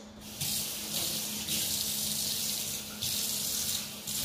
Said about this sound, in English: Use a little bit of water to get it all out.